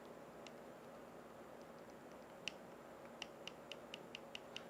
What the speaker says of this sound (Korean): 방향 버튼을 제가 누르고 있습니다